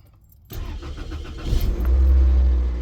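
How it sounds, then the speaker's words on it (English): A 1998-2002 Toyota Corolla engine cranks and catches after a quiet moment, settling into a loud, close, steady idle. "I'm gonna start the car"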